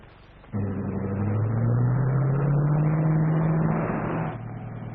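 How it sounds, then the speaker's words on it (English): A roadster car in a 1945 radio drama pulls away: its engine starts up and revs, climbing steadily in pitch as it drives off, loud and close before easing back down, with no talk over it. "Well, it's Mr. Kruger driving the roadster."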